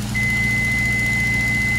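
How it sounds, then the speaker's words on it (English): A single steady electronic beep marks the autopilot switching off in a Piper Pacer flight simulator game, holding a clear tone over the loud droning propeller engine. "you hear that beep, and you know the autopilot's off"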